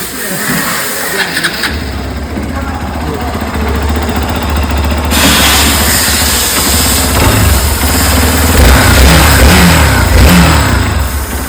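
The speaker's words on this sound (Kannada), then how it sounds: "ಗಾಡಿ ಸ್ಟಾರ್ಟ್ ಮಾಡ್ತಾ ಇದ್ದಾರೆ" A motorbike engine catches after a brief crank and settles into a loud, close running note with rising revs and a few throttle blips, while people talk nearby.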